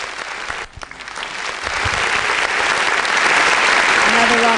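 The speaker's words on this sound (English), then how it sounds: "Another round of applause right there." Audience at a youth leadership debate final applauds, a dense steady clapping that swells and grows louder, close and sustained.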